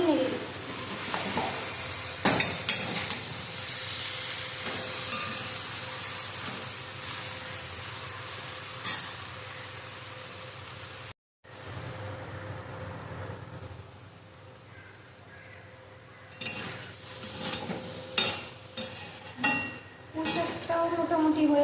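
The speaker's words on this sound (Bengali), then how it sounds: "পুঁই শাক দিয়ে দিয়েছি, এবার ভালো করে নেড়ে দিচ্ছি।" Malabar spinach (pui shak) fries with mixed vegetables in a pan, giving a steady sizzle and hiss with intermittent scraping stirs, briefly cutting out midway, then resuming with clattering utensil knocks and faint background voices.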